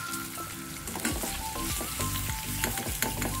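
Paneer cubes fry in hot oil until browned, a loud, busy crackling sizzle with spattering pops and occasional stirring clatter, close and continuous.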